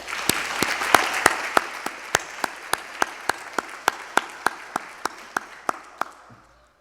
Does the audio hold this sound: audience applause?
yes